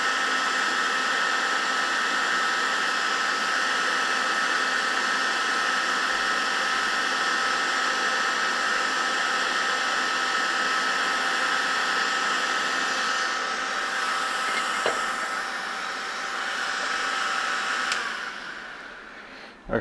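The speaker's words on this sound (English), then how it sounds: "I'm going to turn my fan on." A steady whooshing whir of an electric fan runs continuously at close range, loud and unchanging, fading slightly near the end, with no talking.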